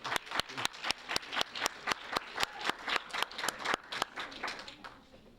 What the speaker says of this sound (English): Please give another round of applause for amazing.